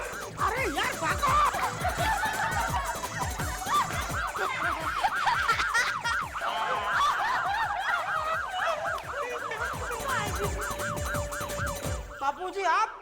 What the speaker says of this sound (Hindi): आप ये सायरन आप बजा रहे थे?